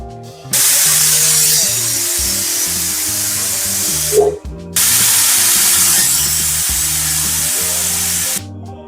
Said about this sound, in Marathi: आणि याच्या आपण 4 शिट्ट्या करून घेऊया